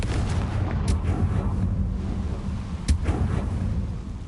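A Confringo blasting spell goes off in a fantasy video game, giving a dense, rumbling roar with a couple of sharp bursts cutting through the steady low boom.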